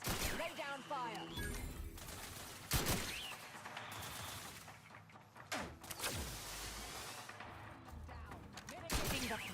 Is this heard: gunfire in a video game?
yes